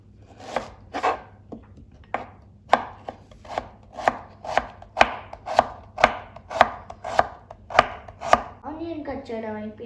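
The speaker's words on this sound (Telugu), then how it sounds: "ఇప్పుడు మా మమ్మీ ఆనియన్స్ కట్ చేసి ఇస్తుంది." Onions being chopped with a knife for an oil-free egg omelette: a steady run of about fifteen sharp, close knocks on a cutting board, with no talking.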